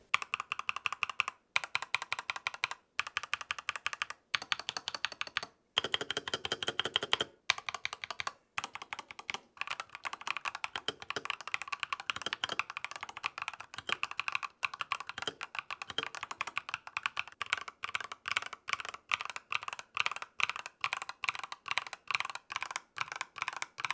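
Fast typing on an Epomaker EP75 mechanical keyboard fitted with Gateron Pro Yellow linear switches, a close, steady stream of crisp clacks with brief pauses between bursts, heard alone.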